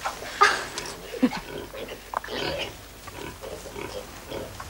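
Pigs rooting in mud on a farm give several soft grunts and snorts at irregular intervals, fairly close but quiet, with faint voices in the background.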